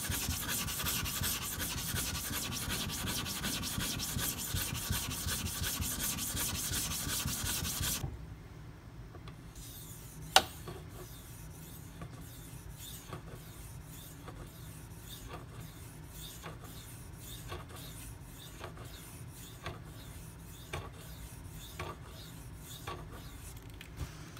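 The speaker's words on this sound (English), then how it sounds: "I'm going to go ahead and flatten my stone." Sharpening stone being flattened on an Atoma diamond plate: steady loud rasping scrape for about eight seconds, then quieter intermittent rubbing strokes with one sharp knock, no voices.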